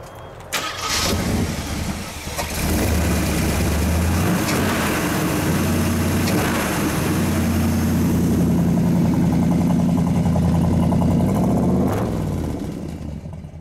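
A 1970 AMC AMX with a 390 engine cranks briefly, catches and roars up, then settles into a loud, steady, rumbling idle that holds for about ten seconds before easing off slightly, close by with no talk over it.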